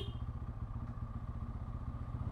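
A Bajaj Pulsar N250 motorcycle engine runs close by as a steady, throbbing low rumble with an even pulsing beat and no voices.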